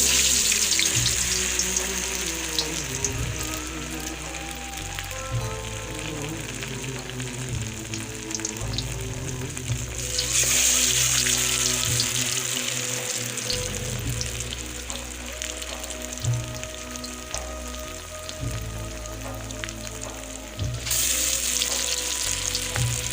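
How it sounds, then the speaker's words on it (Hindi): Aloo tikki (potato patties) frying in hot oil, a steady loud sizzle that runs throughout with occasional crackle and a faint splash of water in the background. "मैं इनको फ्राई कर रही हूँ। ऑयल गरम हो गया है।"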